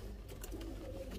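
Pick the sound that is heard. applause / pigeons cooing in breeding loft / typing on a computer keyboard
pigeons cooing in breeding loft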